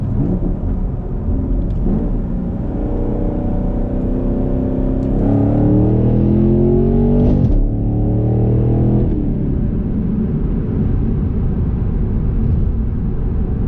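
A 2018 Camaro SS 1LE engine revs hard at full throttle and holds high with rising harmonic sweeps, dipping briefly between gear shifts, then settling into a steady loud rumble.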